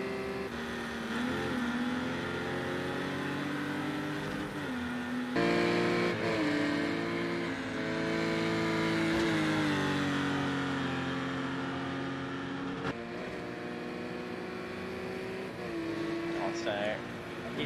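Porsche Cayman Cup race cars circling the Circuit de Barcelona-Catalunya, their engines droning and shifting pitch steadily throughout under a commentator's voice.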